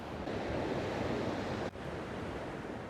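Ocean waves break at a surf beach in Tenerife, a steady broadband wash of surf with a brief dip in the middle, heard faint and at a distance with no voices.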